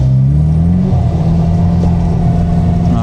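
Drift car engine revving hard on a warm-up lap across a frozen lake, a loud close mid-pitched drone with a rising rev partway through, then held at high revs.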